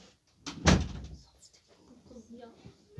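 A door is opened with one sharp, loud knock-like clack followed by softer rattles and faint shuffling, close by in a quiet room.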